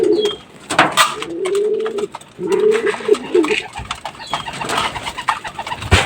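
Racing pigeons coo inside a loft, with several soft, throaty calls rising and falling close by, and occasional rustles and thumps of movement among the birds.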